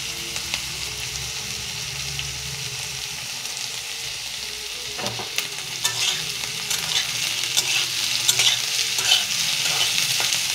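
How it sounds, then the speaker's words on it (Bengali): Vegetables fry lightly in a pan with a continuous sizzle, while a spatula stirs and scrapes them in scattered clicks that grow busier and louder toward the end. "ভেজিটেবলটা ভাজি ভাজার পরে এটা নামাই দেব। অল্প অল্প হালকা ভাজা করব।"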